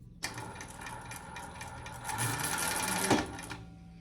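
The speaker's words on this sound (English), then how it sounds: "All right, now we can wind." A THOR 1341 sewing machine winding a bobbin, a close, fast mechanical whir that runs steadily for about three seconds and then stops, with no talk.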